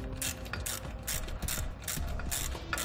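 A ratchet clicks steadily and quickly while bolts are tightened on a round A-frame trailer jack, close and continuous with regular pawl ticks.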